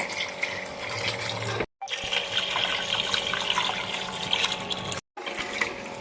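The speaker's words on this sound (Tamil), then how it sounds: "இனி நம்ம தண்ணி ஊற்றிடலாம்" Water pours steadily into a pot of rice for prawn biryani, a continuous rushing splash that breaks off twice for a moment before resuming.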